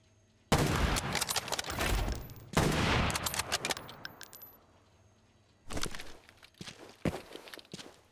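Gunfire at a shooting range in the game Arena Breakout: Infinite: two long loud bursts of rapid automatic shots, each trailing into a clattering tail, then a pause and a looser cluster of single shots and echoes.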